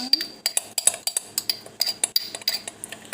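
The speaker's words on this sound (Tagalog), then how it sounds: "So, paghaluin ko lang to" A metal utensil stirring a homemade hair mixture in a container, with rhythmic clinking and scraping strikes about every third of a second, close and clear.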